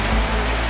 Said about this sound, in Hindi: बारिश हो रही है यहाँ पे।